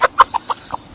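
Garden chickens give a quick series of five short, clear clucks in about a second, close and fairly loud.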